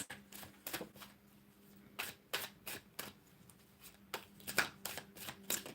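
A deck of crystal reading cards is shuffled in a quiet room, with a run of short, crisp riffling bursts and soft flicks spaced irregularly across the stretch, faint and close.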